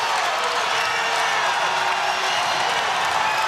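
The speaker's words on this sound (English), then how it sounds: "And the crowd comes alive." A basketball arena crowd roars and cheers after an NC State three-pointer against Ole Miss, a dense, sustained wash of noise at steady loudness.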